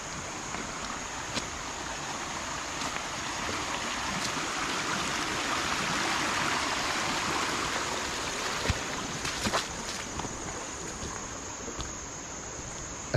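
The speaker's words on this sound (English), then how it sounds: "I don't know what it is about the sound of water." Steady rushing of flowing stream water, continuous and fairly close, with faint insect chirps in the background and no voices.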